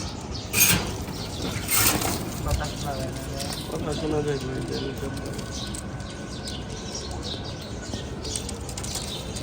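Firozpuri pigeons, including a male breeder bird, flap their wings in two loud bursts, then coo and chirp softly at close range, with steady background noise and talk over the birds.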